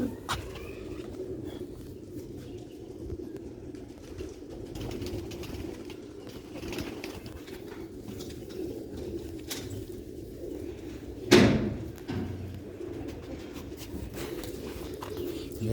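Pure Sialkoti roof pigeons give soft, low cooing throughout a quiet outdoor scene, with a brief sharper flutter or knock near the middle.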